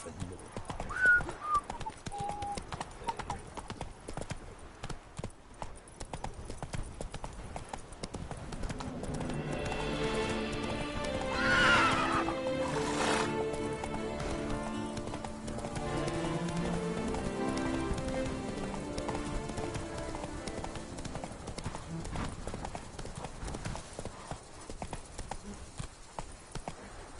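Roach, the horse in Witcher 3, gallops in a steady clip-clop rhythm that runs the whole time against a rainy backdrop, with a musical swell and brief talk partway through.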